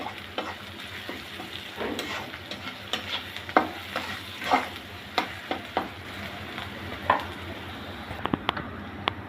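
Onions fry in a pan with salt for a fish bhuna, sizzling steadily while a spoon stirs and scrapes in repeated soft knocks, close by and with no voices.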